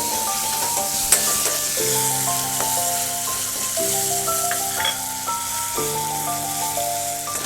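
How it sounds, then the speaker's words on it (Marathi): Chopped tomatoes go into sizzling fish curry masala with turmeric in a hot pan. A loud, steady frying hiss and crackle runs throughout, with a bright background music melody layered over it and no speech. "आता टोमॅटो घालून घेऊया।"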